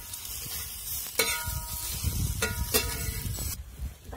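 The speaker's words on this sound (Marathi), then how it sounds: "कांदा आणि मिरच्या लसूण भाजायचा राहिला होता तर मी आता तो व्यवस्थित भाजून घेते" Onion, green chilies and garlic fry in hot oil for a vegetable curry, sizzling up close under a few sharp scrapes and knocks of a spatula against the pan, with no talking.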